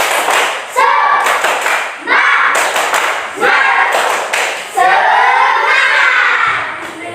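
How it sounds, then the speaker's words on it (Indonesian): A school class claps in short rhythmic bursts with voices chanting and shouting along, loud and close, the pattern repeating several times. "Kita tepuk semangat terlebih dahulu. Tepuk semangat."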